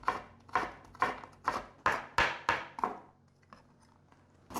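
A knife dicing peeled, sliced carrot on a cutting board, with about eight sharp, evenly spaced chops in steady rhythm, close and clear, then a pause with a couple of faint taps.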